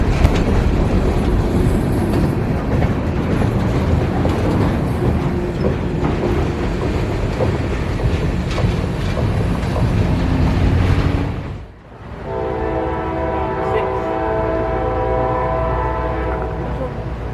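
Train Y122 rumbles loudly past on the W&A line with steady rolling and wheel noise, then sounds its horn in a long, sustained blast as the roar suddenly drops away.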